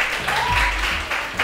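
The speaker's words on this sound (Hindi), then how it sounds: "वो तालियां बजाएं।" A studio audience on a TV game show applauds loudly and steadily, a dense wash of clapping that swells slightly around the middle and carries on throughout.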